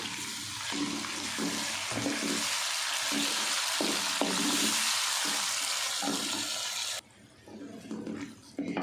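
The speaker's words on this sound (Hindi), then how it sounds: "डेढ़ से 2 मिनट हमने अदरक लहसुन को भून लिया। अब हम इसमें डाल देंगे टमाटर।" Tomatoes tipped into a hot pan of frying ginger and garlic for a dhaba-style mixed vegetable dish, a loud steady sizzle throughout that drops off sharply near the end; speech is faintly present.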